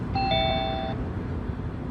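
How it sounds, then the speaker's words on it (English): Smart home doorbell chime, a bright electronic ding-dong sounding once for under a second, clear and close over a low room hum, then fading out. "When the doorbell rings, a camera sends an image to the terminals throughout the home."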